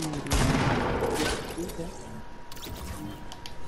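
Gunfire in a 20-versus-20 shooter video game: a dense burst of rapid shots at the start, followed by scattered lighter shots, with a player talking over it.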